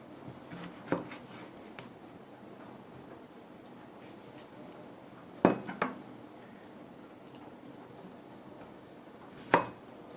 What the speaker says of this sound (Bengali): আর কাটবো টমেটো আর পেঁয়াজ।